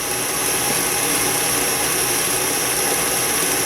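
A stand mixer fitted with a paddle runs at a medium speed while mixing frangipane, giving a steady, even motor whir that holds throughout with no talking.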